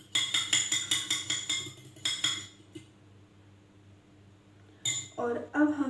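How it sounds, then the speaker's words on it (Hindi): Two eggs are mixed in a bowl with a utensil, giving a run of rapid, bright clinks and taps against the dish, then a pause and another short burst. A voice is heard near the end. "2 अंडे मैं लूँगी। सबसे पहले इसको अच्छे से मिक्स करेंगे।"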